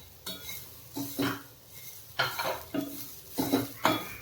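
A spoon scrapes and knocks against a pan while seasoning is stirred, about six distinct clattering strokes in an uneven rhythm, close and clear with no talking.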